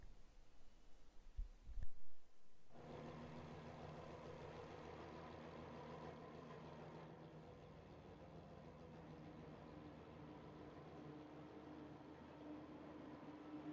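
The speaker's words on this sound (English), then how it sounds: "enjoy the sound of these cars idling for a second" Porsche Cup race cars from a sim racing game idling together on the starting grid, a steady low engine drone that holds evenly after a brief thump and burst of noise at the start.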